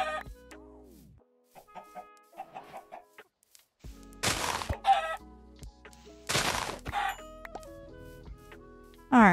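Chickens in the Minecraft video game cluck in a string of short, clear calls, with louder game noise bursting in between.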